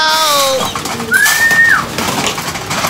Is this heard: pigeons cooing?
yes